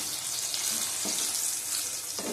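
Eggplants sizzle in a pan of hot oil with a dense, continuous crackle, close and fairly loud, broken by a couple of brief scraping stirs.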